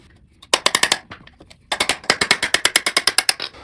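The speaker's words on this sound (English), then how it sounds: "I'm gonna stick it in there and kind of tap it out" Punch hammered against the hollow rear axle of a Kawasaki KLX 140 during chain and sprocket work: two rapid bursts of sharp, close metallic taps, a short run of strikes, a brief pause, then a longer, steady string of hits.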